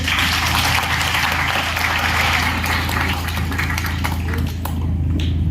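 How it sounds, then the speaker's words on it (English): An audience claps together for a startup team during a seminar on startup schemes, with loud, sustained applause over a steady low hum that thins out and fades near the end. "Let's clap for them again."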